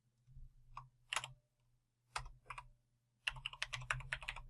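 Light computer keyboard typing in short bursts of quick keystrokes separated by pauses, close and fairly quiet, with a low steady hum underneath.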